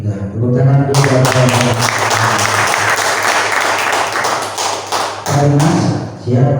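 An audience claps for a workshop's general secretary, a loud burst of dense applause rising after a voice and fading back into speech near the end.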